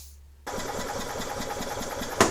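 A 2004 EZGO TXT gas golf cart engine cranks during a compression test, a steady rapid chugging starter drone that kicks in abruptly and runs without talk.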